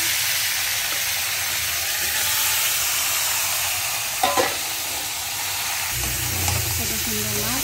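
Ground turmeric and whole spices sizzle steadily in hot oil in a pan, with a continuous frying hiss and occasional stirring scrapes for a fish curry of local tangra fish.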